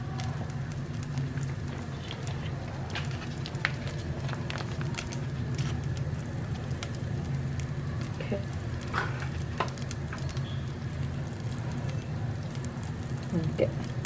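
Whole garam masala spices (cloves, cardamom, cinnamon and marathi moggu) fry in hot oil and ghee in a pot, giving a steady, close crackling sizzle with scattered pops throughout.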